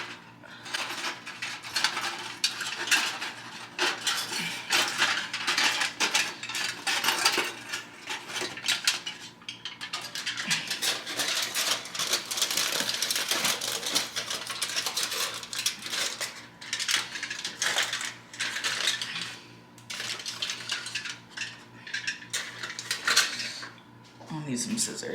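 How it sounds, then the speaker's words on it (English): Foil being wrapped around a hookah bowl, with crinkling, rustling and light metallic clinks coming close and in irregular bursts, mostly continuous with brief lulls. "So we're gonna put the foil around it."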